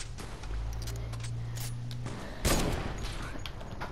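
Gunfire in a video game called Bot Wars, bursts of rapid shots over a low humming background, with a louder sharp blast midway, fairly close, no speech.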